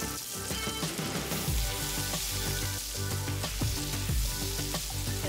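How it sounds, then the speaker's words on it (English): Steaks sizzling loudly in garlic butter in a cast iron skillet, a steady close frying hiss with occasional spattering pops throughout. "we're just gonna put our steaks in there and let them cook on each side for about 2 minutes or so"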